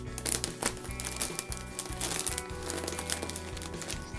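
A plastic bag crinkles and rustles in close, irregular bursts while a parcel holding a backpack is being unpacked, with no talk.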